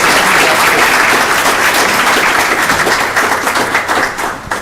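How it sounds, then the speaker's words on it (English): Audience applause at a book launch event, dense steady clapping from a crowd filling the room, holding strong throughout and tapering slightly at the end. "can we please give Glenn a round of applause?"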